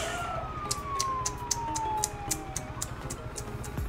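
An ambulance siren on a road carries a steady tone that glides slowly downward, heard amid traffic noise with a series of short, sharp clicks recurring throughout.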